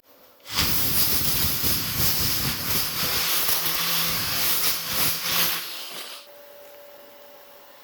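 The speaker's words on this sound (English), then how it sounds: "Finish it off now with a bit of 40 grit just to clean up the edges" Coarse 40-grit sanding along the front wing edges of a Ford Escort MK1 during restoration: a loud continuous abrasive rasp for about five seconds that then stops, leaving quiet room tone.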